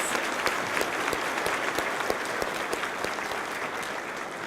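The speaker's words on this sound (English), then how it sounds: "Please join me in giving them a round of applause for our thanks." An audience at a community college graduation ceremony gives warm applause, a dense, even clapping that fills the hall steadily for several seconds without speech.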